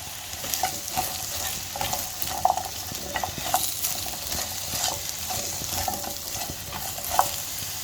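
Vegetables and seafood stir-fry in hot oil for chop suey, a steady close sizzle broken by frequent scraping and stirring taps of a spatula against the pan, with no voices.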